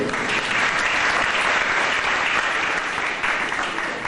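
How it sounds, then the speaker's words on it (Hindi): Loud, close clapping from a seated audience at a spiritual talk, continuous and dense for several seconds, with a faint voice briefly beneath it. "तालियां बजाइए इनको।"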